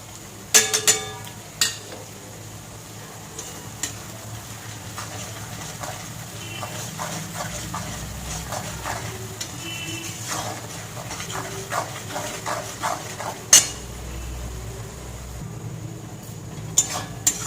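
Spices with a little salt and chili powder being stir-fried for chicken biryani, a utensil scraping and clinking against the pot in repeated strokes, with sharper metallic knocks now and then over a low steady background hiss.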